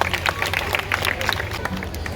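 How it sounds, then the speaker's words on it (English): An outdoor audience at a kids' climate change march in Kampala claps, a scattered, uneven patter of hands over a low hum, with crowd murmur beneath. "Your efforts deserve a round of applause."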